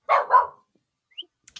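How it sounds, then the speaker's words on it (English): A dog lets out two quick, close barks in succession, followed by faint clicks and small noises in otherwise quiet surroundings. "dog is barking, which signals the end of our show."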